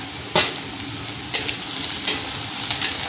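Garlic dropped into hot oil with okra gives a few short, sharp crackling bursts separated by quieter stretches, with light stirring in the pan.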